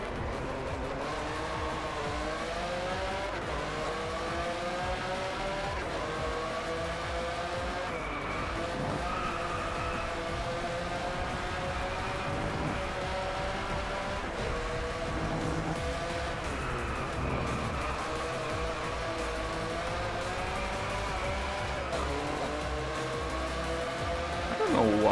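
Enzo Ferrari supercar racing in the Driveclub video game, with a loud, continuous high-revving engine wail shifting pitch through gear changes, mixed with tire skidding and squeal throughout.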